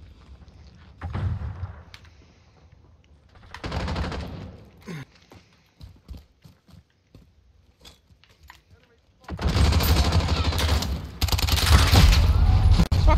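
Call of Duty Modern Warfare hardcore team deathmatch gunfire: a few scattered shots early on, then a sustained loud barrage of rapid automatic fire filling the last few seconds, with a voice talking over the action.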